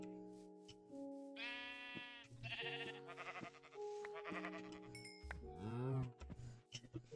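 Sheep in the Minecraft Crazy Craft modpack bleat repeatedly, several wavering calls overlapping in quick succession, fairly faint against light game clinks with no talking.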